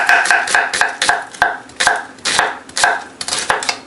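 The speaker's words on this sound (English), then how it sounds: "to julienne that up, once you have it like that, just kind of just quick run through with your knife" Quick knife strokes julienning food on a cutting board while preparing shrimp and grits, a run of sharp, fairly evenly spaced taps close by, heard alone.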